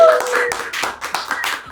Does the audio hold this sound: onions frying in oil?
no